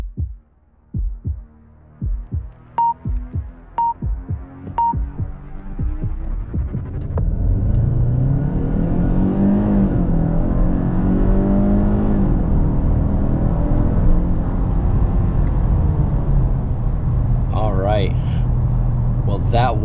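A 2021 Genesis G80 in sport mode starts with several sharp clicks, then the engine surges into a loud, sustained rising roar as the car accelerates hard, with a voice speaking briefly near the end.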